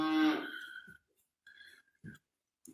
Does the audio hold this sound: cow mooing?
yes